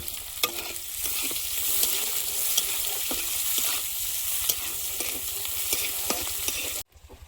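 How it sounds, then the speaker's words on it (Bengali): Chopped onion and slit green chilies stir-fried in a little oil, a steady sizzle with repeated scraping stirs of a spatula throughout, cutting off abruptly near the end. "লঙ্কাটা একদম বেশি ভাজবো না একটু হালকা তেলে নেড়ে নিয়েছি"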